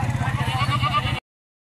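Goat bleating at a livestock market in Dera Ghazi Khan: one loud, close, wavering bleat lasting about a second before cutting off to silence.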